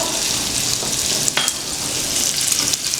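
Butter sizzles and fizzes steadily in a hot frying pan, a dense bright crackle with a few sharper pops and spits, close and alone with no talking.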